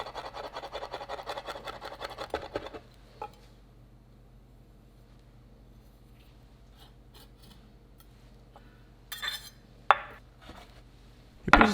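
Garlic cloves are finely chopped on a board, with rapid close knife taps for nearly three seconds. Then comes a long hush broken by a few scattered clatters of utensils.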